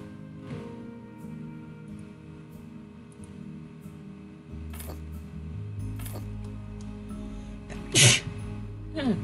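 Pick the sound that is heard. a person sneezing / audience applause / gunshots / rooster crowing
a person sneezing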